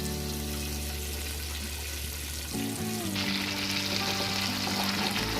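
Tomato sauce poured into a pan of melted butter, a bright hiss that swells into a loud, steady sizzle with a faint tonal hum underneath.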